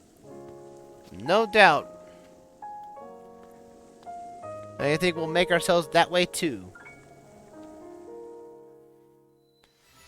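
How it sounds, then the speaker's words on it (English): Rain falls in the video game The Legend of Zelda: Breath of the Wild as a soft, steady background patter beneath someone speaking, with musical tones rising and falling over it. "Of course it's always raining here. Why would it not be raining?"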